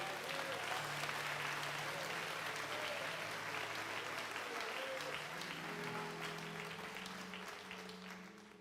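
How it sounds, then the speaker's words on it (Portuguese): A Baptist church congregation applauds during an evening service, producing a continuous soft, distant wash of clapping with sustained musical tones underneath, tapering slightly at the end. "Pode aplaudir a Jesus bem forte essa noite."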